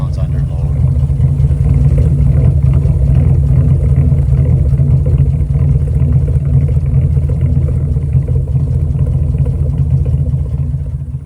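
A 1980 Alfa Romeo Alfetta GT fitted with an Alfa Montreal V8 runs steadily, a deep continuous rumble close by with no clear revving, while voices talk over it.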